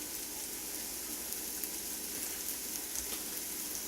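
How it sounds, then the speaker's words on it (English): Hash browns sizzle and fry steadily in a hot pan at diner-style cooking, a dense continuous crackle with faint bursts of spatter, close and fairly quiet, no voices. "Get your big ball of potatoes and make sure you scatter them decently in the pan."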